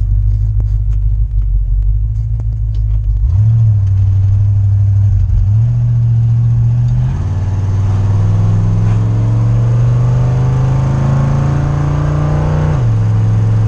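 An old truck engine drones loud and close while cruising on a road, its pitch climbing and then dropping at each of several gear shifts over a continuous low rumble.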